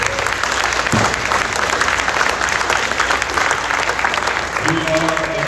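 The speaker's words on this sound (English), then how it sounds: "Give yourselves a big round of applause" Incoming high school students at a freshman orientation applaud loudly, a sustained wash of clapping with crowd noise and a few voices rising near the end.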